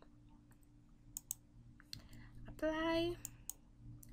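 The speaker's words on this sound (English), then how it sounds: "We just double click it and we click enable" Computer mouse clicks: a few sharp isolated clicks, including a quick double click, close by amid quiet room noise, with a brief spoken word near the end.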